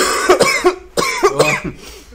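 Two loud, close bursts of harsh coughing, each a quick cluster of hacking coughs, separated by a short pause.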